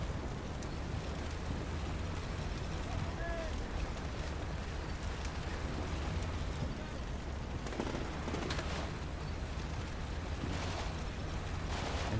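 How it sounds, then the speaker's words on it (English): Machine gun fire and distant battle noise in the Combat Mission: Shock Force 2 war game form a dense, continuous rumble with faint bursts of shots throughout, steady and moderately quiet. "MG's opening up."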